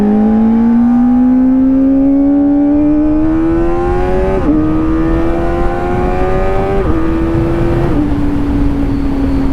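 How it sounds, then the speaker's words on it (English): Engine of a car accelerating hard from a standing start, a loud steady drone climbing in pitch through several gear shifts, each marked by a brief dip, close and continuous with no talk. "The Dakota beat the V12 off the line."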